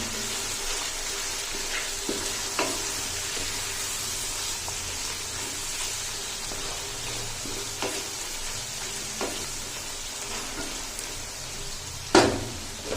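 Chappan kaddu squash cooks in a pan with turmeric and red chili, giving a constant broad sizzling hiss, with a few sharp clinks and one louder knock near the end.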